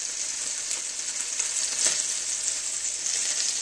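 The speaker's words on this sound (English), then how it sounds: "we're actually frying those bits in the pan. They're actually frying there" Steady, bright sizzling of roast meat bits frying in a hot pan for gravy, continuous and close, with no voices.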